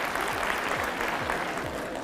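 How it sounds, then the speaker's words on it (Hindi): An audience applauding a gift presentation at an indoor gathering, a steady wash of many hands clapping at moderate distance for a couple of seconds. "तालियां।"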